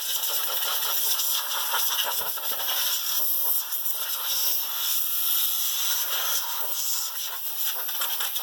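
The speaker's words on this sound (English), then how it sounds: "This is some compressed air, so I'm going to take this and just clean this up" A can of compressed air sprays in a steady, loud, close hiss over a Buck stove model 81 blower motor, with small flutters as the nozzle moves but no real break.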